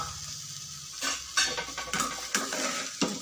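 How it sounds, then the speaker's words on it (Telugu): Pieces of ivy gourd fry in hot oil in a pan, giving a steady crackling sizzle. A utensil scrapes and clinks against the pan several times as the pieces are stirred, and no one talks. "దీంట్లో ఇంకొంచెం ఆయిల్ వేసుకొని దొండకాయ ముక్కల్ని ఫ్రై చేసుకుందాం"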